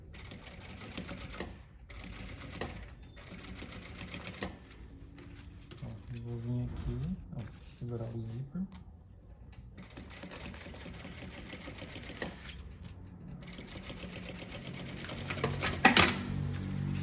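Sewing machine stitching a straight seam on a tote bag with a printed synthetic panel and lining, running in steady bursts under a woman's nearby speech.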